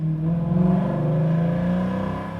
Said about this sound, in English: The exhaust on this car sounds fantastic.